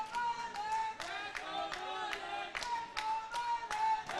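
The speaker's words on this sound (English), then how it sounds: "the crowd support is electric here at Insportz" Crowd clapping at an indoor cricket match in the UAE, a lively rhythmic patter of many hands in repeated bursts, with a voice speaking over it.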